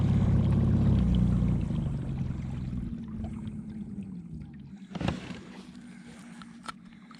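Old Town Predator kayak with a newly fitted motor turning around on a river, giving a steady low motor drone and water wash that is loudest at first, then eases, with a brief bump near the end.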